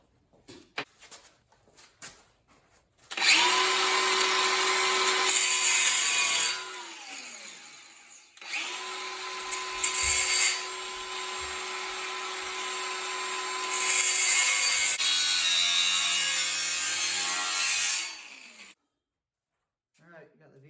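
A power tool whines loudly as it cuts a V groove into wood for a bookshelf, running in long sustained passes with brief pauses and pitch dips between, with people talking around it.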